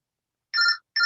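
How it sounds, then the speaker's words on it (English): A phone rings during an online meeting, giving two clear electronic tone bursts, steady and loud, separated by a short silence. "It sounds like we have a phone going off."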